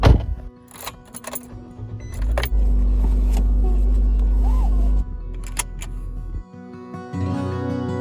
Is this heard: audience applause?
no